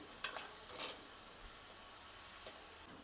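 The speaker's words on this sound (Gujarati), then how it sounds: "અહીંયા મરચાં પણ સરસ તળાઈ ગયા છે અને ક્રિસ્પી થઈ ગયા છે" Faint, steady oil bubbling and sizzle from chillies frying crisp for poha chivda, with a couple of soft stirring scrapes near the start.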